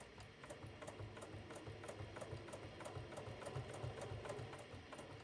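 A sewing machine stitches binding onto a table runner, a soft, slow and even rhythmic chatter of stitches heard close but faint.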